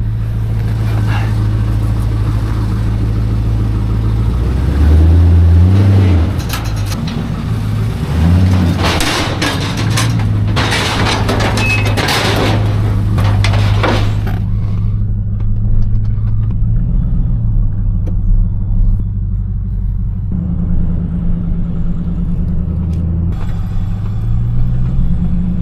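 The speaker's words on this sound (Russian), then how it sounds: "Злой V8, наверное." A V8 car engine idles and runs loud and close with a deep, steady rumble, joined by clanking and someone talking for a stretch, then settling to a lower idle.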